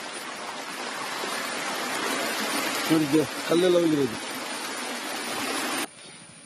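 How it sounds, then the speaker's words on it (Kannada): Floodwater from a breached tank at a Chikkamagaluru coffee plantation pours past as a loud, steady, broadband rushing roar. Someone speaks briefly over it midway, and the sound cuts off abruptly near the end. "ನೋಡಿ, ಉಕ್ಕಿ ಹರಿದಿದೆ ನೀರು ಫುಲ್ಲು"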